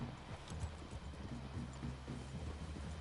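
Horse hooves clip-clop steadily over ground in the Red Dead Redemption 2 video game, a regular muffled rhythm under faint ambient sound, with no talk.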